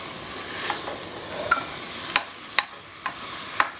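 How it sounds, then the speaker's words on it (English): Ground beef and onions browning in a pan, a soft steady sizzle with several sharp scraping clicks of a utensil stirring against the pan at irregular intervals. "while these onions are cooking and the beef"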